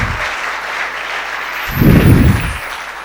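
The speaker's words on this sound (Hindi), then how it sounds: "एक बार जोरदार तालियां फाइनल ईयर के स्टूडेंट्स के लिए।" A college audience in a hall claps for final-year students, a short burst of applause that swells near the end, heard alone without talk.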